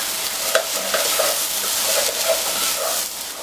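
Dal sizzles steadily in a pot with a constant frying hiss, while a spoon scrapes and stirs it in soft, irregular strokes close by.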